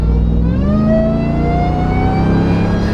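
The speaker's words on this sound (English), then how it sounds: "It actually really gives that supercharger quite a bit of whine." A RAM TRX truck engine revs steadily upward, its supercharger whine climbing in pitch over a loud, continuous mechanical drone.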